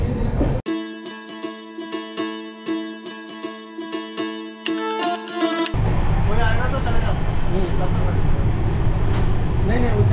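After a rhythmic, tonal pulsing passage, the Amrit Bharat Express train rumbles on steadily and loudly as it runs after departing New Farakka Junction.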